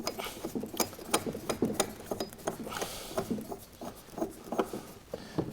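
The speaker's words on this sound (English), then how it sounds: "Just simply screw that on by hand." Faint, close clicking and scraping as a metal machine adapter is screwed on by hand, uneven rapid ticks and rattles of threads turning, quiet throughout.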